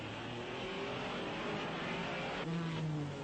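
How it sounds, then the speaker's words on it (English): A Porsche race car at the 1961 Belgian Grand Prix at Spa, its engine a steady, distant droning roar from an old, faint recording that swells slightly as the car passes. "This is Joe Bonnier's Porsche"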